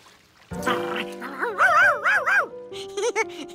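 A cartoon dog, dyed blue, yips and whimpers in rising and falling bursts, a cluster of high, close, animated cries that begins abruptly after a quiet start.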